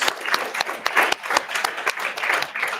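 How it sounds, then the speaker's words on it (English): An audience at a freelancing and wealth-building talk applauds: dense, continuous clapping from many hands that stays loud and steady throughout, with no voices over it. "Come on, give her a round of applause."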